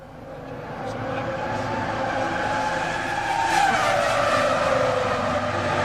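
A Formula One car spins out during the 2002 Malaysian Grand Prix practice session, its engine roaring close by under a long, loud tire skid that swells and shifts in pitch, with no talking.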